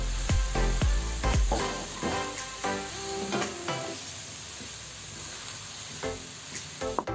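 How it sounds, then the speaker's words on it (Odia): Chhena filling for enduri pitha frying in a pan, giving a steady hiss and sizzle broken by sharp scraping and stirring clicks from a utensil, loud and close throughout. "ଏବେ ଆମର ପୁରଟା ଭାଜି ହେଇଗଲାଣି ବେଶୀ ଭାଜିବା ବି ଦରକାର ନାହିଁ"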